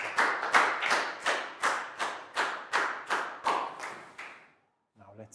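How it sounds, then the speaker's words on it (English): A classroom of Year 4 children gives a round of applause, about a dozen rhythmic, fairly loud group claps in steady succession, then a brief pause before a faint voice. "High five, big round of applause for down"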